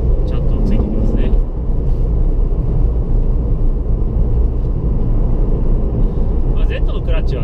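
A manual Nissan Fairlady Z Version ST with an HKS aftermarket muffler accelerates. A steady, deep engine and exhaust rumble holds throughout while someone talks over it from inside the car.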